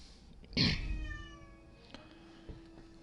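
A house cat gives a single clear, fairly close meow with a drawn-out falling tail, heard alone in a quiet indoor room with faint background noise.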